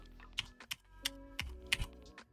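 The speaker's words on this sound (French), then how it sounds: "j'ai un super clavier mécanique" A mechanical keyboard clacks under a handful of distinct, separate key presses, about six crisp strikes spaced unevenly over two seconds, close and quiet, with a faint electrical hum beneath and no voices.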